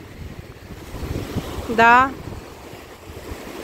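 Ocean waves break steadily on the shore on a morning beach, a continuous wash of surf with wind, while a voice briefly speaks once over it.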